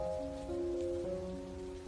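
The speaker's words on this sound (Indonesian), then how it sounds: "Hari ini hujan yang sama turun seperti 3 tahun lalu." Rain falls steadily on surfaces in a light continuous patter, with a sustained tonal hum running underneath and no one speaking.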